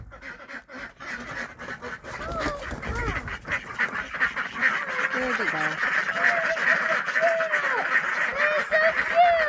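Khaki Campbell ducks quacking steadily in a loose chorus on a homestead, close and fairly loud, with repeated nasal calls overlapping throughout while a person speaks briefly near the start.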